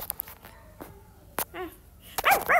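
A dog in a pet sitter video game gives a few short barks and yips: one sharp call early, then a quick cluster of loud barks near the end.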